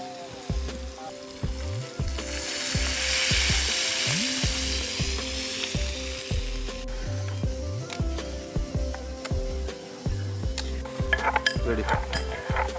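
Mango pieces frying with spices in a pan for a Bengali fish curry with mango, a steady loud sizzle with repeated stirring scrapes and a few clinks of utensil against the pan, with no talk.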